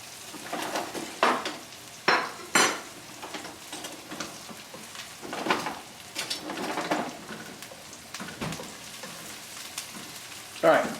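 Onions frying until golden brown in a pan for Italian wedding soup, a continuous sizzle broken by repeated sharp stirring scrapes and clanks, no talk over it.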